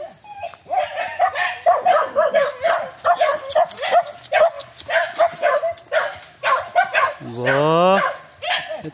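Several Shih Tzu dogs bark and yip repeatedly, fairly close, with rapid overlapping barks throughout and a drawn-out whine or howl near the end, while people talk over them.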